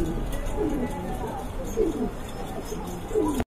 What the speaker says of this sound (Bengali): বিগ সাইজের এক জোড়া কোয়ালিটি সম্পন্ন কবুতর